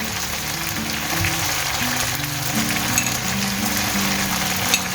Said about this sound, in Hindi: अब हम इसमें अपनी शिमला मिर्च शामिल करेंगे जो हमने काट के रखी थी।